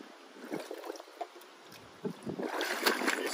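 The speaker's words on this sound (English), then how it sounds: "I'm gonna take out all of my filter cartridges, and I'm just gonna toss them into the water." Filter cartridges tossed into hot tub water while purging the tub, giving quiet splashes and trickling, gurgling water, soft at first and fuller toward the end.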